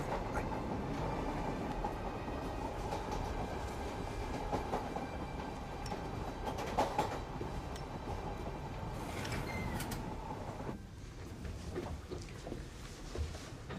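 Steady rumble and rhythmic clatter of a moving train heard from inside the carriage, continuous and fairly loud throughout, with a few brief knocks near the end.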